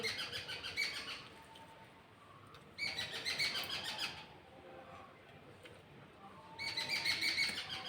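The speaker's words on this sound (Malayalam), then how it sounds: "കാക്കയും കിളിയൊക്കെ കാണുമല്ലോ" Outdoor birds including crows calling in three loud bursts of bright, repeated chirps and caws, separated by quieter gaps of faint background birdsong.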